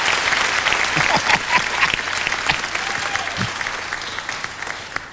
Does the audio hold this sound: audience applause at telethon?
yes